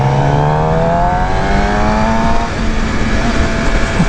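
A 2018 Suzuki GSX-R750 sport bike engine pulls hard, loud and close, its rising whine climbing steadily as it accelerates through the gears, with heavy wind rush underneath.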